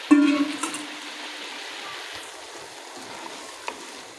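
Chicken frying in about half a cup of oil in a pan while being cooked down for a curry, giving a soft, steady sizzle with a louder burst at the start and faint crackles afterward.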